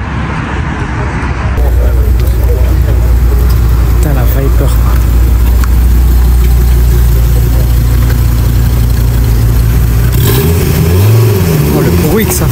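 Sports car engine at a Ferrari and AMG GT R gathering, a loud close roar that revs and rumbles steadily, then swells into a rising acceleration near the end, with people talking excitedly over it.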